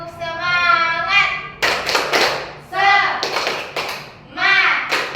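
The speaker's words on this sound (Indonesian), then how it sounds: "silakan berdiri dulu semua, tepuk semangat" A group of schoolchildren does a rhythmic spirit clap in a classroom: bursts of quick, sharp hand claps alternate with loud chanted voices, repeated in a call-and-clap pattern.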